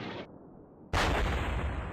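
A German artillery shell explodes in the World War II game Combat Mission: Battle for Normandy. A muffled lull gives way to a sudden loud, broad blast whose rumble sustains to the end.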